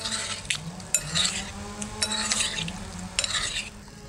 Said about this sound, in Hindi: अब ऑयल इसमें डाल देंगे। अच्छी तरह मिक्स कर लेंगे।